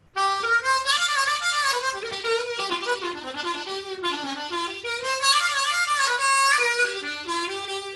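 A harmonica plays a bluesy melodic line of bent, sliding notes in the blues scale, solo and fairly loud, with continuous phrasing and slight breaths between notes.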